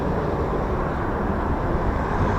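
An RAF Eurofighter Typhoon FGR4 jet taking off at RAF Coningsby, a loud, continuous deep engine roar that stays steady and heavy throughout, with no voices over it.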